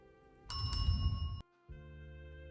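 A bar bell in the video game Drinks Noir rings with a bright metallic ding struck twice in quick succession, then a sustained ringing tone under soft background music, cut briefly before the music resumes.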